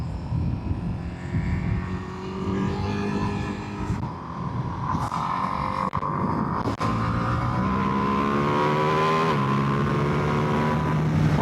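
A Ducati Panigale V2S motorcycle engine revs and shifts while riding, a loud, close, rising and falling drone with pitch climbs between gear changes and wind rush throughout.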